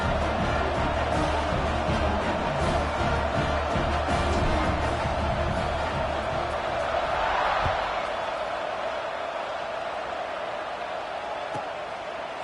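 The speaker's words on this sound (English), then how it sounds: "this crowd is buzzing after that last score" Stadium crowd at an NDL football game against Syracuse, a broad sustained buzz of many voices filling the space, loud at first and easing off after about eight seconds.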